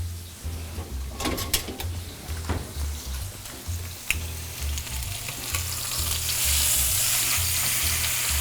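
Meat sears in a hot pan with a close, continuous sizzle and crackle, a few clanks and scrapes of tongs moving it around, the fry swelling louder toward the end; no voices.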